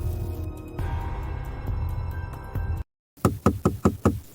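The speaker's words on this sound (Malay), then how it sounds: "Masa Kira ketuk pintu rumah aku, tiba-tiba ada seorang lelaki tegur dia." Knocking on the door of a rented house at night, five sharp evenly spaced raps close by after a brief silence that follows a low steady hum.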